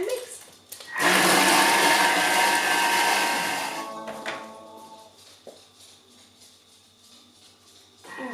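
A Thermomix at speed 6 whirs loudly for a few seconds while mixing biltong pâté, then winds down, followed by quieter clicks and handling sounds.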